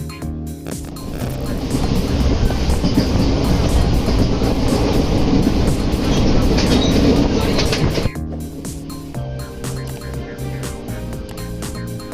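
Passenger train running toward Manigram station in Jharkhand, heard from onboard: a loud sustained rumble with rhythmic clickety-clack of wheels that drops off sharply near the end, leaving a quieter steady hum.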